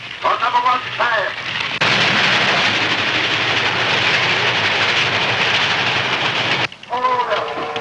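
A loud rumbling rush of a train passing close by, filling several seconds, with radio-like voices talking briefly before and after, from a 1932 film soundtrack.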